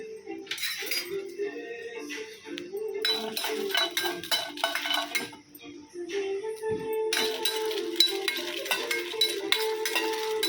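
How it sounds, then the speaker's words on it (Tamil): Cashews and dried chillies dry-roasting in a pan, a spoon scraping and clinking against the metal in repeated bursts of stirring, close by. "அதுக்கப்புறமா முந்திரி ரெண்டையும் கொஞ்சம் நல்லா வறுத்துக்கணும்."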